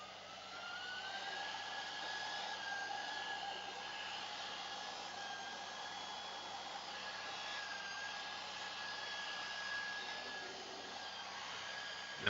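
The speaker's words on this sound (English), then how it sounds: "I was going to switch on my vacuum cleaner" A vacuum cleaner runs steadily for about twelve seconds, a constant whining drone with a sustained tonal hum, close and unbroken, with no talking.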